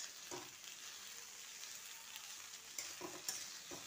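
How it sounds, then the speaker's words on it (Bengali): Cabbage, onion, beans and capsicum cut in large pieces frying in oil in a pan, a steady soft sizzle with a few stirring scrapes near the end, no talking. "প্রথমে আমি কপি, পেঁয়াজকালি, বিনস, ক্যাপসিকাম খুব বড় বড় করে কেটে একটু ভালো করে ভেজে নিচ্ছি।"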